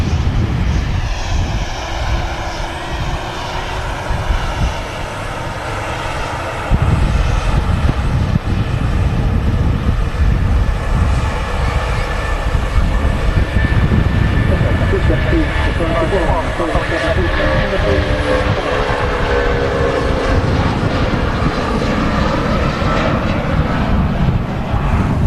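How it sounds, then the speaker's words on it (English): A Boeing 757 takes off from Manchester Airport with its gear retracting, a loud, sustained jet engine roar that swells and holds steady throughout, with people talking over it. "the gear going up on the 757 off to Lanzarote"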